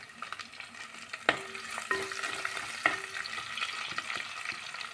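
Ginger, garlic and dried red chillies frying in oil in a pan, a steady close sizzle broken by a few sharp clinks and scrapes of stirring, with no voices.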